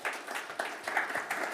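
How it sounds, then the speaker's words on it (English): Audience applause at a corporate investor forum, a steady wash of clapping from a crowd sustained for the full moment without any voices over it. "Please give him a round of applause."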